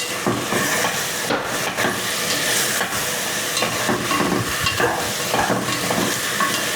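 Five small garlic cloves and a little pepper frying in a pan for bean soup, a loud continuous close sizzle with frequent stirring scrapes and no talking.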